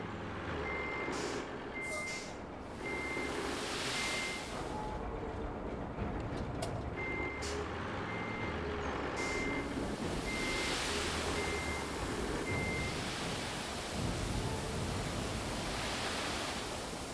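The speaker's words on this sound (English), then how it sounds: "I just want to see him backing up the truck and we can hear sand just falling out the back." A dump truck in the RoadCraft video game reverses with a steady repeating back-up beeper over a constant engine rumble and a broad hiss of sand pouring from its bed, with occasional sharper clatters.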